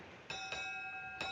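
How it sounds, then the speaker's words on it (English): A ship's bell at sea strikes for eight bells, with three clear metallic rings, a close pair and then a single stroke, each leaving a long ringing tone over quiet background. "Make 8 bells."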